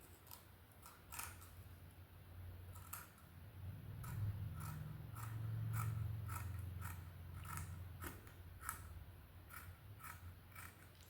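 Scissors cut blouse fabric in soft, repeated snips at an uneven pace, close but quiet, over a faint low hum.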